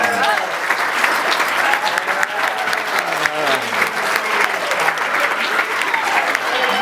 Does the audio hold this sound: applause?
yes